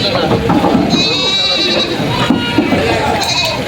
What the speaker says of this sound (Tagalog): Mga pangkatay ng mga kambing.